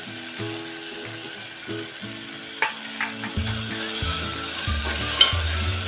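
Coriander leaves frying in hot oil for masale bhaat, a steady close sizzle with occasional stirring clinks, under a faint background tune.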